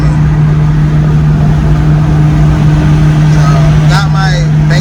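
Honda Civic with a built R18 engine humming steadily while driving in traffic, a constant low drone with a strong tonal note, and someone talking over it near the end.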